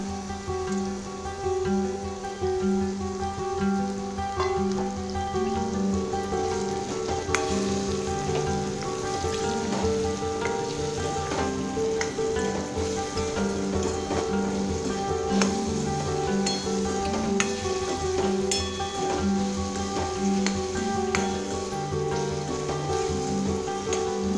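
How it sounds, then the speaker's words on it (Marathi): Raw mango pieces sautéing in a pan over medium heat for a sweet-and-sour chutney, a steady soft sizzle and crackle running without a break, moderately close, with occasional light stirring clinks and no talking. "आता छान व्यवस्थित नरम होईपर्यंत ह्या कैरीच्या फोडी परतून घ्यायच्या"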